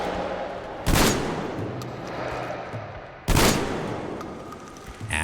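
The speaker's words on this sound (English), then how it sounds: "you can see how the Shambler works and how it's very much a jury-rigged shotgun" Two loud, booming blasts from the Shambler, a jury-rigged shotgun in Metro Exodus, spaced a few seconds apart, each trailing off into a lingering rumble.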